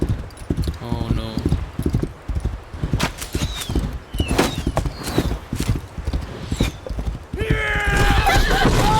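A horse gallops in Assassin's Creed Valhalla with steady, rhythmic hoofbeats close by, then gives a loud whinnying neigh near the end.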